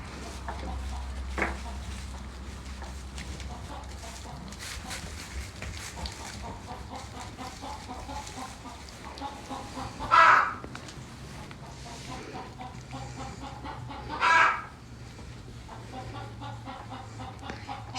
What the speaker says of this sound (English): let's go see the chickens